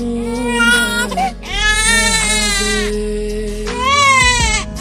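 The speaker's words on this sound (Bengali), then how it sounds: "কাঁদে না সোনা, কাঁদে না, কাঁদে না।" A baby cries loudly and close in long, wailing bursts separated by brief gasps, with no speech.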